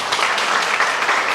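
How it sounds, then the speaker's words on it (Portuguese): A church congregation applauds during a worship service, steady dense clapping filling the whole moment at close range with no voices on top. "Você pode aplaudir Jesus?"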